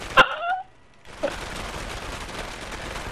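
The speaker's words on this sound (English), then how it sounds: "Now here, here's a fireworks show. Fireworks extravaganza" A fireworks show in Dead Rising 2 opens with a sharp whistling launch and crack, then a short pause before a dense, continuous crackling of bursts that carries on to the end.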